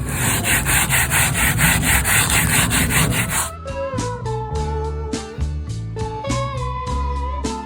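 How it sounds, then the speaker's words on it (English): A grimy BBQ grill grate is scrubbed with Citrusafe cleaner in rapid, rhythmic back-and-forth strokes, loud and close, for a few seconds before giving way to tonal background music. "And there's the back of it before I've started to scrub. Pretty grimy. And let's start scrubbing."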